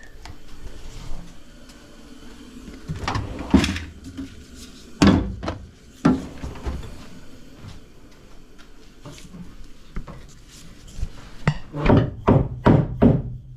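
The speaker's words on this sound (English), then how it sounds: "Need a little hammer?" A small hammer taps and knocks on fittings during build work on a CJ vehicle, coming as irregular sharp thunks and bursts of quick strikes, loud and close, with a closing run of rapid blows.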